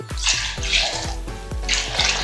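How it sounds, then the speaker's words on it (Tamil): Water poured in repeated glugging bursts into a container of mint lemon juice, close and fairly loud, with brief pauses between pours. "இப்போ இதில் மீதி தண்ணி சேர்த்துக்கலாம்."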